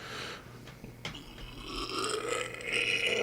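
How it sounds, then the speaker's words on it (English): A long, rough burp comes from a person in a podcast setting, stretching over a few seconds with a croaky, gurgling texture, close and moderately loud. "That was the worst burp ever."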